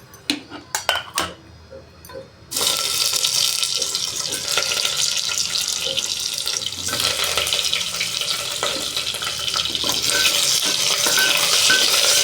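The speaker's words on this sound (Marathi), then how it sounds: "तेलात कढीपत्ता थोडा फ्राय झाला की त्यात भरलेली वांगी टाकून घेऊ." A few sharp clinks open the sound, then stuffed brinjals and curry leaves drop into hot oil in a pressure cooker, setting off a loud, dense sizzle that holds steady to the end without talk.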